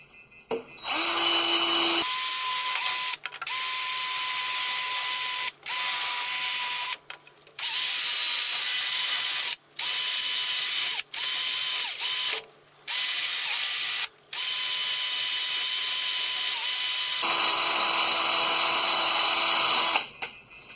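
A power tool with a wire brush whines loudly in repeated bursts, stopping and starting many times while cleaning parts on a 1997 Chevy 1500 four-wheel-drive truck; no talking.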